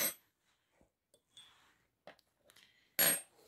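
Metal spoons of different sizes, soup, dessert and teaspoon, clinking together as they are handled, a few short bright clicks and taps spread out, with a louder clatter near the end, fairly close and with no talk.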